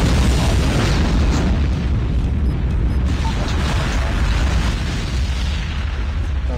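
A nuclear bomb explosion in Call of Duty: Mobile: a heavy, sustained rumble with deep booming low end and crackling debris noise, loud and continuous throughout.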